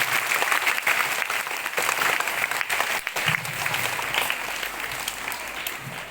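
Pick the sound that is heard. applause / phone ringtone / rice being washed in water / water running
applause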